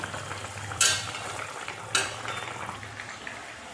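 Onion-free curry simmers in a pot under a steady low sizzle and bubble, broken by two sharp, close scrapes of a spoon stirring against the pot.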